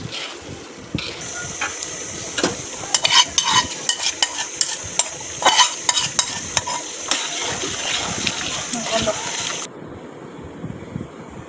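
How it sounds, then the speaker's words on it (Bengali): Spice masala for hilsa fish fried in oil and stirred in a pan, with repeated scraping strokes of a spoon over a steady sizzle, close and moderately loud, then stopping abruptly near the end. "একদিকে মাছের মশলা কষাচ্ছিলাম"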